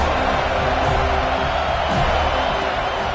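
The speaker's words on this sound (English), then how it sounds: "This crowd trying to make life miserable for this offense." Steady roar of a stadium crowd in the college football game NCAA 26, a loud, continuous wash of cheering and noise with no breaks.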